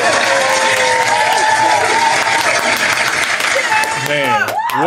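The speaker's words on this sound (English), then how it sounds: "Yo, give me another round of applause, man." An audience claps and whoops to celebrate episode 200 of a live show, with steady loud applause and rising and falling cheering voices throughout, growing brighter near the end.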